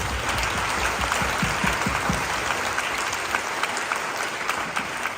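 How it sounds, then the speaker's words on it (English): Town hall audience in Louisville, Kentucky applauding Social Security employees: a dense, sustained wash of clapping from a sizable crowd, steady and loud for the whole stretch. "can we give a big round of applause to all of our Social Security employees?"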